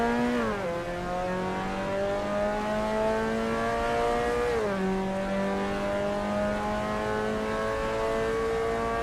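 A race car launches from a standing start in a racing game with start assist off, its engine holding a loud, steady high rev, then shifting up twice with brief dips in pitch before climbing again, alone and close.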